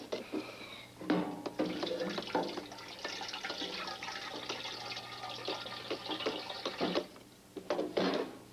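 Tap water runs steadily into a pot being filled for boiling, a continuous close splashing stream with brief clattering near the start and end.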